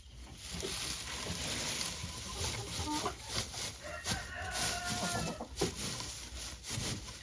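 Hens clucking in a coop as straw is laid into nesting boxes, a steady murmur of bird calls with scattered sharper clucks close by over constant background hiss.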